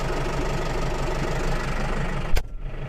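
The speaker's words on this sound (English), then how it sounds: "Just going to give the engine a minute to warm up that." A farm vehicle engine idles while warming up with a steady low rumble and faint knocking, close by, then a sharp clunk near the end as it quiets.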